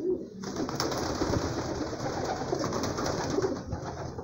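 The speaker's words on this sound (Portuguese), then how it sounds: "Olha os pombos aí, olha os pombos." Pigeons coo steadily and close by in an outdoor racing-pigeon loft, soft repeated low calls layered over a constant busy wash of flock noise and fluttering, with no talking throughout.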